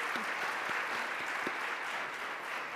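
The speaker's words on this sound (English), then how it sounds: "let's give a round of applause to our panelists" Audience applauding panelists at a workforce development event, a steady broadband patter of clapping that fills the room and holds evenly throughout without any voices.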